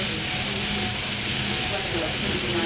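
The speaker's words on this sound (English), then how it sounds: "I'm going to go ahead and throw these right on the grill." Burger patties sizzle on a grill, a steady loud hiss of searing meat running throughout with a faint voice under it.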